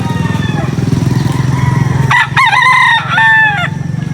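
A rooster crows nearby at a pet market in Angeles, loud and drawn out, over a background of steady engine-like rumble and faint clucking.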